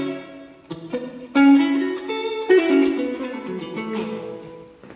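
Electric guitar through a NuX MG30's plate reverb plays a short phrase of picked notes and chords, each note blooming into a smooth, dense reverb wash that lingers and fades.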